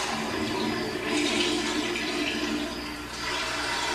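A toilet flushing in a house, a loud continuous rush of water close by that swells midway and then settles toward a refilling hiss, with no talking.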